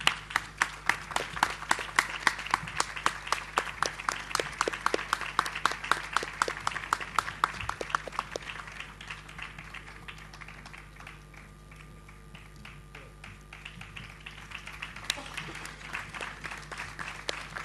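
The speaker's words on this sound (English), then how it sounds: "Let's give a big hand to the superstars of Value Education Olympiad." Audience applause at a school prize ceremony for a Value Education Olympiad, with dense clapping for the first eight seconds that thins into scattered claps, then a brief swell of renewed clapping near the end.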